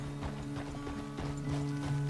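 Horse hooves clip-clop in steady, fairly close steps in Red Dead Redemption 2, with a low drone sustained underneath throughout.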